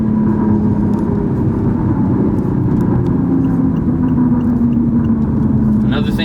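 BMW i8 accelerating in Sport mode in manual S2 on an open road, a steady loud engine drone and rumble heard from inside the cabin, with a voice talking over it.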